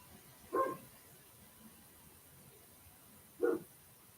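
An agitated dog barks twice indoors, with two short, separate woofs about three seconds apart over a quiet room hum.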